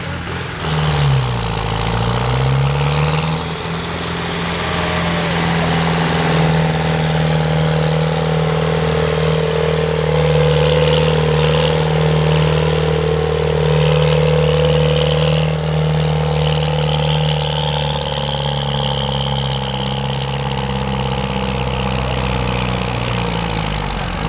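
A tractor engine at the 2017 Vastseliina tractor pulling competition gives a loud, heavy roar that dips briefly near the start, then holds high and steady revs for the rest of the run.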